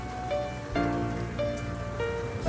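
Rain falls steadily on a surface, a constant soft hiss on a dark night, layered under sustained tonal hum and low swells of ambient music.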